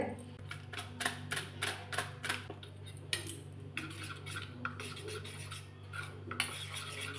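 A spoon stirring food colour into rice-flour batter for patishapta pitha, giving quick rhythmic clicking scrapes against a bowl over a low steady hum, fairly quiet and close.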